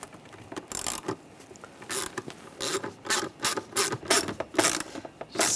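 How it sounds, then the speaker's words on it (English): A ratchet tightens a worm clamp in the engine bay of a 2009-2013 BMW 328i xDrive, giving bursts of quick, close clicking in a steady rhythm, with short pauses between the bursts. "And we'll tighten the worm clamp down."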